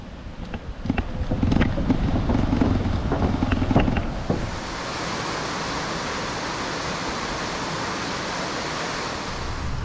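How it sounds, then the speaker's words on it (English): A man-made waterfall on a canyon trail sends up a steady, broad rushing roar that settles into an even wash after a few seconds of nearby clattering knocks and scuffs. "So that's the first kind of a man-made waterfall on this trail."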